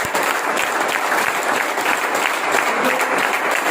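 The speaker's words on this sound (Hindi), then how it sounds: "एक बार हम शानदार तालियों के साथ" Loud, dense applause from the audience at a business meeting welcoming newcomers, continuous rapid clapping from many hands close by throughout.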